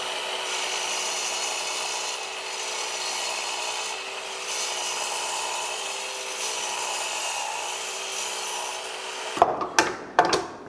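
A woodworker's saw cuts wood at an awkward angle, steady rasping and rubbing for about nine seconds, then a few sharp knocks and clunks at the end.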